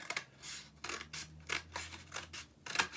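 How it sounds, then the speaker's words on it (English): Scissors snipping into folded card, a run of about six crisp, rhythmic cuts, close and clear with no talking. "we're going to cut down towards the crease that we made when we folded the card"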